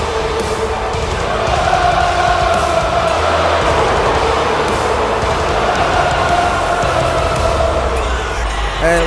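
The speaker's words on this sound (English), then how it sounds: "despite the boos, he's serenaded to the ring by this crowd tonight" Loud, dense arena crowd noise from a WWE 2K23 wrestling broadcast, a steady roar with drawn-out booing and jeering that holds throughout as a wrestler makes his entrance to the ring.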